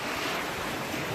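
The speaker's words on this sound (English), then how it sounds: "the waves are like bursting under here" Ocean waves burst on a shallow beach at Pandie Beach, Grenada, a loud, continuous rushing wash of surf mixed with wind noise on the microphone, heard alone.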